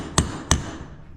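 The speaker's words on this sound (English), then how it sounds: "I'm just hammering on the top of this cone right here, this outer race, this cone race." Two sharp metallic hammer strikes on a bearing cone race of a John Deere 787 strip-till ring out close by, spaced about a third of a second apart, each with a brief ringing decay.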